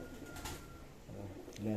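Soft coos from molting pigeons in a loft rising from a murky background, with a louder low coo near the end.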